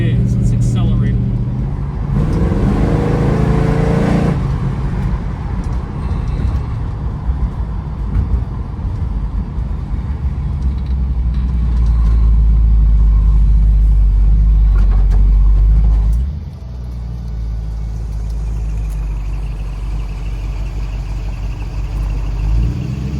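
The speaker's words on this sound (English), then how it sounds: "Let's accelerate a little." A rebuilt 1970 Dodge Challenger R/T convertible driven with the top down accelerates, its low engine rumble swelling into a loud, sustained roar before easing back to a steady cruise.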